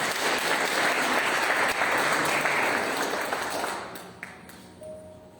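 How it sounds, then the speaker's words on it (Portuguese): A church congregation bursts into dense, steady applause at a Wednesday worship service, sustained and full before tapering off toward the end with a few scattered final claps. "Você pode aplaudir o Senhor?"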